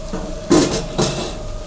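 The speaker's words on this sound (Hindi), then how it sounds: "अब अच्छी तरह से मिक्स कर लेते हैं।" Cooked vegetables in a pan with coriander leaves just added are mixed with a utensil, giving two distinct metal scrapes against the pan over a quiet kitchen background.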